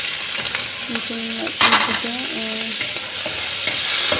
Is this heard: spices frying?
yes